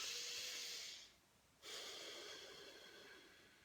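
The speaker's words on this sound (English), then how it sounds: "breathe in for 2 and out for 4. If you can, in and out through the nose" A person breathes slowly in and out through the nose, with a long, loud airy exhale, a short quiet gap, then another long breath close to the microphone, with no talking.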